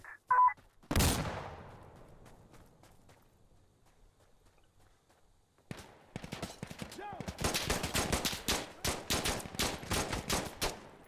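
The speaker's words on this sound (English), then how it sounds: "I don't know who's shooting at me" Gunfire in Insurgency Sandstorm with the Macedonia mod: one sharp, loud shot rings out and decays, a quiet pause follows, then a rapid burst of automatic fire with dense, repeated cracks.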